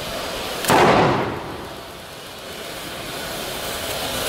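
A pyrotechnic special effect at a fire brigade training exercise staging a fire at a petrol station goes off as a single sharp bang, then a long fading rumble and hiss dies away into steady outdoor noise.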